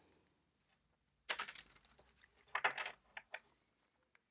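A deck of Mystical Shaman Oracle cards being shuffled by hand, making soft papery riffles and slaps in short quiet bursts separated by near silence, with no voices.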